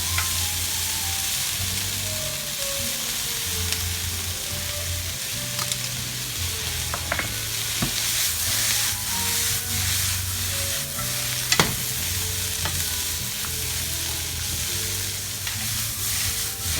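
Mushrooms, onion and pepper fry and sizzle in a pan for a long stretch, with a steady crackle under occasional stirring and scraping, close and fairly quiet, with no voices.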